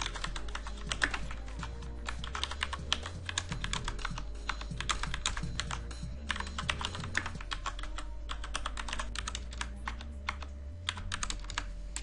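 Rapid, steady typing on a computer keyboard while setting up Ubuntu Server 14.04 in VirtualBox on Windows 8.1, dense clicking keystrokes close up with a low hum underneath.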